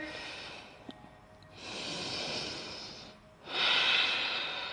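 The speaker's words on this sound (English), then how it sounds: "Taking another breath here." Deep, slow breaths during a yoga strength session, two long airy exhales or inhales close to the mic, separated by a brief pause, with no words spoken.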